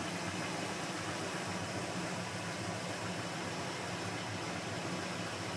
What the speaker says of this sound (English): There's you an official 1 week cold start.